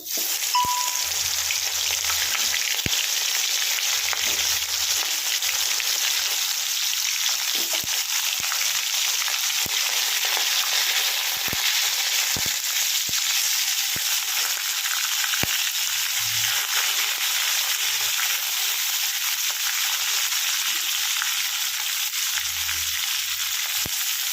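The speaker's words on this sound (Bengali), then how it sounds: "আমার কড়াই কিন্তু গরম হয়ে গেছে এবার আমি আস্তে আস্তে ছেড়ে দিচ্ছি কাঁকড়াগুলো" Crabs fry in a hot kadai with a continuous bright sizzle and crackle, interspersed with scattered sharp pops and spatters over a long steady stretch, no talk.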